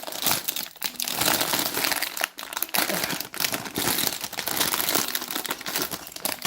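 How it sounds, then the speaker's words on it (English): Rattly plastic packaging of a building kit is crinkled and torn open up close, a dense run of loud crackling and rustling with brief pauses as the wrapping is handled, with no voice. "Now for the rattly packing."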